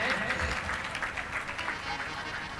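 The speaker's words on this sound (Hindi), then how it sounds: "इनके लिए भी एक ताली बजा दो" Audience clapping fills a religious katha discourse at Naubatpur, Patna, a dense, steady wash of many hands lasting a few seconds with murmuring voices mixed in.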